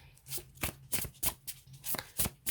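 Tarot cards are shuffled in quick, crisp riffles, about eight soft papery bursts in an irregular rhythm, close up with no talking.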